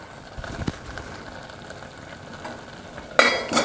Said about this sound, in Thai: นี่นะครับคนๆนวลๆเลยนะครับ